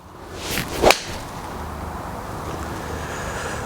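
A single sharp swish and crisp impact of a Callaway iron striking a golf ball, close by, followed by quiet outdoor wind.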